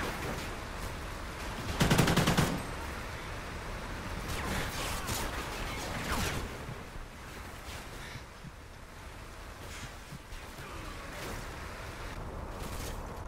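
Gunfire in Call of Duty Ghosts crackles in short bursts and single shots, mostly faint and distant, with one louder close burst early on over a steady wind-like background.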